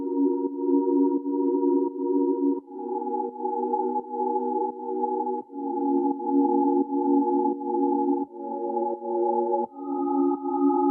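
A sustained synth pad from Analog Lab's Ariana chords playing a slow progression that follows piano chords, steady held chords changing every couple of seconds, smooth and clean with no talking.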